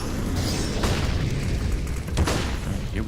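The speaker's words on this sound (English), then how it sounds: "Molotov's down in the hut." A Molotov cocktail shattering and catching fire in a hut on a Counter-Strike map during a professional esports match, a low rumbling burst with a sharper crackle near the end, set against steady game noise.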